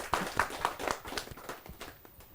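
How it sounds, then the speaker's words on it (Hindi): A small audience at a kavi sammelan, a Hindi poetry gathering, claps to welcome a poet: a faint, brisk, evenly spaced run of about nine claps that sounds thin rather than like full crowd applause. "एक बार तालियों के साथ स्वागत।"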